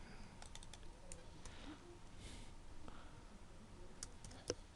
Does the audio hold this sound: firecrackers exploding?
no